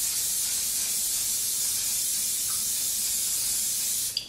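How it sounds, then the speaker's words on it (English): Spray-on olive oil hisses steadily onto lentil burgers for about four seconds, a close, continuous airy spray ending with a faint click. "give each of those a bit more of a spray with the spray on olive oil"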